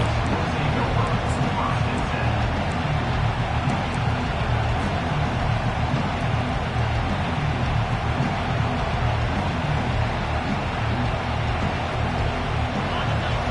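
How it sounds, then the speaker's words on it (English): A college football stadium crowd roars continuously as the offense takes the field, a dense, steady wall of cheering and noise from the packed stands throughout. "This crowd trying to make life miserable for this offense."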